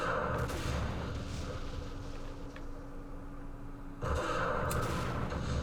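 Distant gunfire and artillery rumble in the wargame Campaign Series Middle East, a steady low battle din with a louder swell of shots near the end, no talking.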